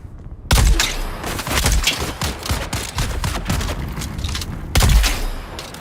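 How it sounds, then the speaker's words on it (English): A grenade blast followed by a sustained fusillade of gunfire in the game Dune Awakening, loud and close, with rapid overlapping shots and a second heavy burst near the end. "So we'll just go ahead and preempt that with a grenade."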